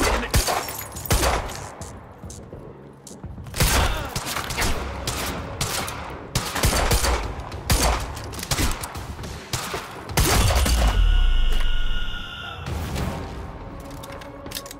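Dense video-game gunfire from Quantum Break: rapid bursts and single shots crack loudly in clusters across the scene, with a few louder booming impacts and brief lulls between volleys.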